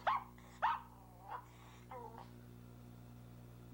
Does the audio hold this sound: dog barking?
yes